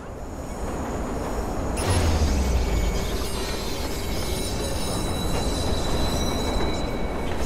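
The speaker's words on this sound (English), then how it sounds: "Train surfing or metro surfing." A metro train in the video game Watch Dogs rumbles steadily along the track, growing louder as it passes, with rattling wheels, rhythmic clacking and faint metallic squeals, and no voices.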